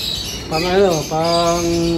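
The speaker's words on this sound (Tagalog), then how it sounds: "may bago na naman akong kalapate" A racing pigeon coos nearby in two rolling, throaty phrases, the second longer and steadier, with faint chirping birds in the background.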